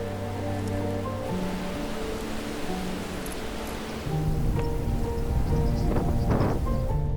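Steady rain falls heavily during a bike ride along paths in Portugal, a continuous wash of drops that swells louder partway through, with strong wind in the air.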